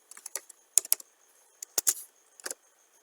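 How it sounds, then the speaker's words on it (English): Keys on a computer keyboard are tapped in short, quiet bursts of clicks with brief pauses between them, close by and without any talking. "I'll come here and type free Wi-Fi"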